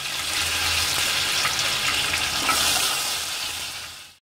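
Ginger garlic paste hits hot oil with mustard seeds, dried red chillies and curry leaves in a pan, giving a loud continuous close-up sizzle that fades out at the end.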